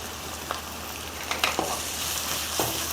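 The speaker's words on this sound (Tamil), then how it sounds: "இப்போ நான் அதில் வந்து மசாலா ஐட்டம்ஸை போடுறேன்." Onion and garlic frying in oil with chili, coriander and turmeric powders for paruppu urundai kuzhambu, a steady close sizzle broken by a few soft stirring scrapes, no voices.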